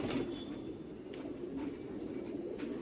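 A Tonk breed pigeon cooing close by in a soft, continuous low murmur, faint and steady throughout.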